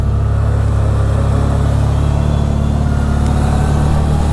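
CFMOTO ZFORCE 950 HO Sport side-by-side engine running steadily in a lower gear through mud and water, a loud, continuous low drone with a constant throaty hum close by, no talking.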